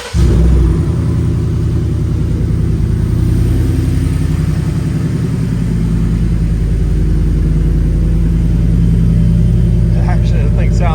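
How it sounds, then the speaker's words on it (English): A 2019 Ford F150 with the Coyote 5.0 V8 and an MBRP exhaust cold-starts indoors in a shop, cranking briefly then settling into a loud, deep, steady idle rumble that holds throughout. "Cold start right here in the shop."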